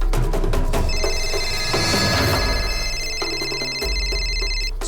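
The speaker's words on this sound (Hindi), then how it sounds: "किसका फोन है?" A telephone rings with a bright, sustained electronic trill, loud and close, pausing briefly between rings.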